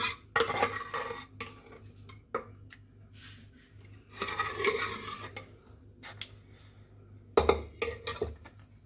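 A spoon stirs sarson da saag, mustard greens, in a pot over a low gas flame, scraping in bursts with clinks against the metal and a faint sizzle, with pauses between strokes and no talk.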